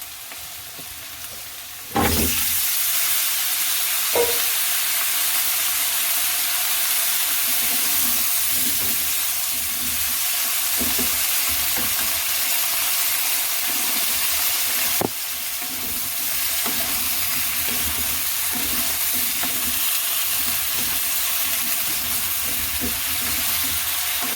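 Okra frying with spices in a pan for a Mediterranean-style dish, a loud steady sizzle that jumps up as the okra goes in and continues close and unbroken, with faint stirring knocks, no talking.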